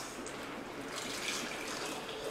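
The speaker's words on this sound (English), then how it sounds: "I'll fill this up with my delicious tea" Ginger-lemon tea pours steadily into a warmed teapot, a soft continuous trickling splash that stays faint and close throughout.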